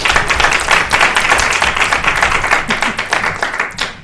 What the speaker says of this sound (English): I also want just a round of applause for Mary Jo's like adaptability and just everything